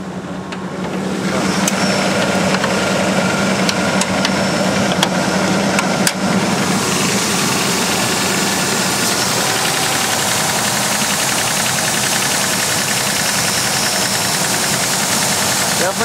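A 1995 Ford Explorer Limited engine starts and settles into a steady idle with a rhythmic knocking from a bad connecting rod, close and continuous throughout.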